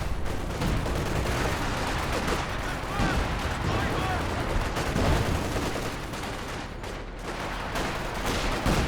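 Howitzer artillery barrage in the video game Company of Heroes 2, a dense, continuous roar of booming impacts and gunfire filling the whole stretch at steady loudness, with no clear gaps between blasts.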